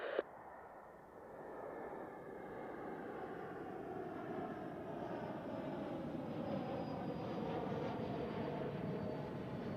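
A Swiss airliner landing on runway 14 at Zurich Airport, a steady broadband engine roar heard from a distance that holds level and swells slightly as the jet passes, with no talk.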